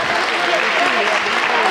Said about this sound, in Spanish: Un aplauso para Cecilia.